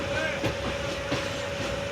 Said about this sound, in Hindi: ट्रेन हमारी भावलपुर रेलवे स्टेशन से मूव होना शुरू हो गई है